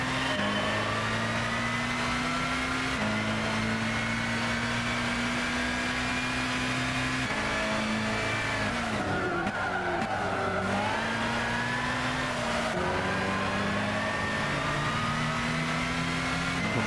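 Zytek Z11SN race car in Gran Turismo 6 at GVS, engine droning steadily with pitch shifts through gear changes and braking, a dip and squeal as it slows for a corner before climbing again, loud and continuous.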